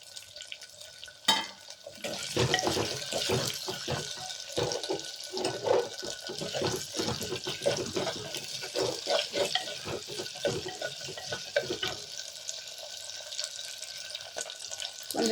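Green chilies and garlic fry in a pan for a horse gram dal, an uneven crackling sizzle with bursts of spattering and clatter, fairly faint and without speech.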